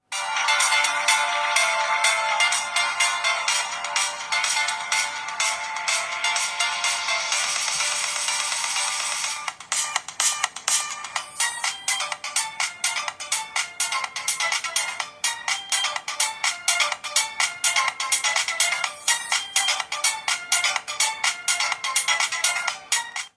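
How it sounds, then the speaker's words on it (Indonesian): A song plays through the small built-in speaker of a Sony Ericsson W200i Walkman phone, sounding thin and bass-light, with the music running continuously and no one talking over it. "kita akan coba untuk mutar lagu di ponsel ini gimana kualitas speakernya"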